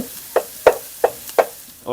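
Vegetables stir-frying in a hot pan with a few sharp scraping strokes of a spatula at a steady, unhurried pace.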